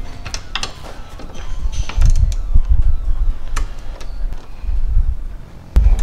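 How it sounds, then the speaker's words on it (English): A tool clicks and ratchets near the underside of a 2005 Mini Cooper as fasteners on a Curt trailer hitch receiver are torqued, with irregular ticks, creaks and clunks close by. "With all of our fasteners tightened down, we can go ahead and torque the specifications as indicated in the instructions."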